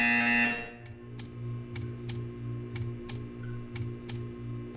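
A buzzer sounds in Portal 2, ringing in short regular pulses about every half second, sharp and metallic above a steady electronic drone, after a brief louder tone fades.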